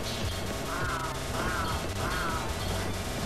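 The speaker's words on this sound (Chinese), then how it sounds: "乌鸦兵" A crow soldier enemy in a Metal Slug-style action game caws three times in rising, scratchy calls over a dense bed of game music and effects.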